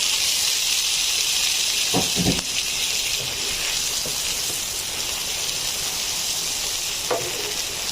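Vegetables are added to a pan of fried onions for a Bengali bori curry, sending up a steady, bright sizzle with a couple of sharp clatters from stirring or handling near the start and end.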